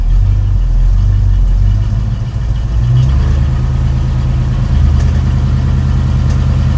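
A 1989 Chevrolet S10 pickup with a V8 swap idles steadily at about 1100 RPM, a loud, close, continuous low rumble with a slight lope and no voices over it.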